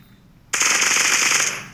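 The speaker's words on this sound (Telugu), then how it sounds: "ఈ ఫైరింగ్ జరుగుతుంది. నా చేతిలో మిషన్ గన్ ఉంది." Machine gun fire in the mobile shooter Bullet Echo: a loud, close, rapid continuous burst starting abruptly and running for about a second before tailing off.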